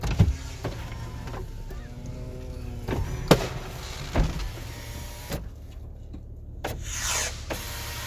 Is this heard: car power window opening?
yes